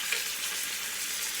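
Beef tips searing in a hot pan, a steady hiss of frying that stays even and close throughout.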